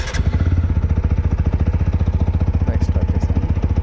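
A 2024 TVS Apache 200 4V motorcycle engine idling close by, a loud, fast, even single-cylinder thump pulsing steadily throughout.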